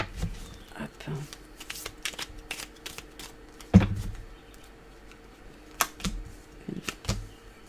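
Tarot cards shuffled for a reading on love and work: close, crisp riffles, flicks and taps of the deck come in irregular bursts, with one firmer knock midway, and some quiet talk mixed in.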